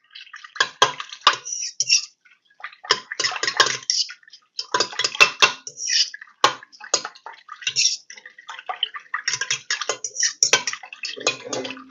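A fork mixes sourdough discard cinnamon roll ingredients in a bowl, with rapid bursts of clinking and scraping against the bowl separated by brief pauses, close and fairly loud, with no talk.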